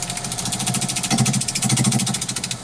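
Wood lathe spinning a light red cedar bowl blank at about 700 to 800 RPM, a steady loud whirring hum with rapid rhythmic pulsing throughout, up close with no talk.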